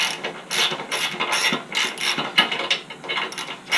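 Rapid ratcheting clicks in repeated bursts as a ratchet wrench loosens the rear-wheel bolts on a Baja Warrior 196cc mini bike, close and fairly loud with no talking.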